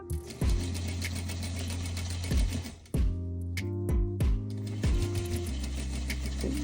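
A sewing machine stitches a mini zippered pouch in short bursts of rapid, close mechanical whirring, stopping and restarting several times with brief pauses between runs.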